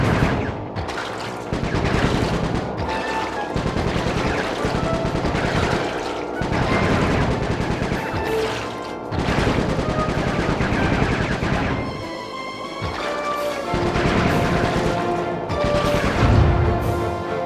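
Sustained gunfire in the Sly 3: Honor Among Thieves PS2 game, bursts of shots rattling steadily for the whole stretch with brief lulls, loud and close over a busy game soundtrack.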